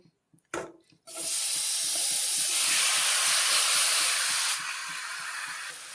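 Marinated gule fish drops into a hot wok and erupts into a loud, broad steamy sizzle after a brief clatter, holding strong for several seconds before easing to a lower steady hiss, close and without talk.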